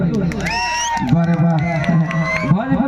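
An audience at an outdoor Bhojpuri stage program cheers, whoops and shouts loudly, with voices and calls rising over a noisy crowd throughout.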